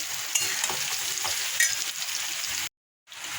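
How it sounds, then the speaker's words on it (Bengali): Spice paste mixed with water sizzles in hot oil in a pan while being stirred, a steady close frying hiss with occasional scraping, cutting out briefly near the end. "মশলাটা দিয়ে দেবো এবার ভালো করে কষাবো"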